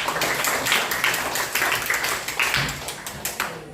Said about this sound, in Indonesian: Tepuk tangan juga untuk.